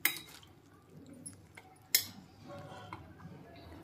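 A metal spoon clinks against a bowl while homemade Vaseline cream is mixed, giving two sharp, close taps amid faint scraping and stirring, quiet and without talk.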